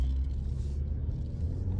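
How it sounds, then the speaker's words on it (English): A car passes nearby, a continuous low rumble of engine and tire noise that stays fairly steady and close over the whole moment. "And let this car go by"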